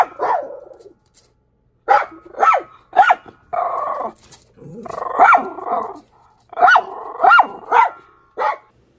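Dogs barking at land crabs in a series of loud, close barks and yips in uneven bursts, with a stretch of growling in the middle and short pauses between outbursts.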